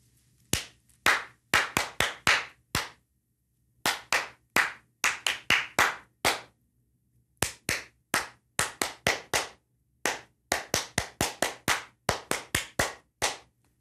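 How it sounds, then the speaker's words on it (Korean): Hands clap out the rhythm of a song, crisp close claps in a syncopated pattern, grouped into phrases separated by brief silences. "제가 손뼉으로 하나 쳐볼 텐데 어떤 곡인지 한번 맞춰보세요."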